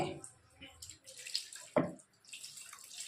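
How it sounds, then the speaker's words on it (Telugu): Squeezed, soaked tamarind is poured into a pan for a stuffed brinjal curry, with faint, brief liquid trickles and one clearer splash midway, all quiet and close. "ఆ పిసికిన చింతపండు ఈ దీంట్లో పోసేయాలండి"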